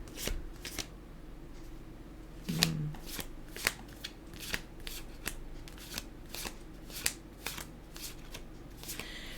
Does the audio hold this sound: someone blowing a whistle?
no